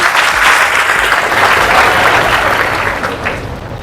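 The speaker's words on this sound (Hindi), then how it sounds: "तालियां बजाना।" Loud, dense clapping from a crowd of students at a gathering, sustained and close for several seconds before tapering slightly at the end.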